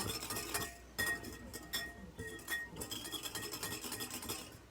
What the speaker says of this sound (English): So we stir our Jello for 2 minutes.